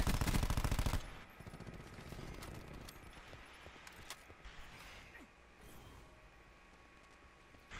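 Hipfire gunfire in the Destiny 2 video game: a loud, rapid burst of automatic shots up front that cuts off abruptly, followed by quieter scattered shots, clicks and mechanical game sounds.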